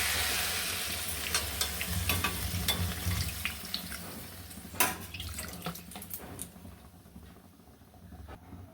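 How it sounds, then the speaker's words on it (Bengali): Water is poured into cauliflower, potato and eggplant frying in a pan for a tilapia curry, so a loud hiss of sizzling fades while stirring clicks and scrapes continue, the sound dropping away toward the end. "এখানে আবার জল ঢেলে দিচ্ছি"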